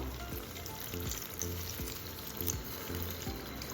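Water goes into a pan of frying brinjal, and a steady, close sizzle and bubbling hiss carries on throughout, with faint repeated soft knocks underneath.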